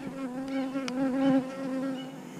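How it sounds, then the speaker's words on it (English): Honey bees buzz at close range in an open hive during queen grafting, a steady loud drone with small wavering shifts in pitch and no voices. "Get food on these bees"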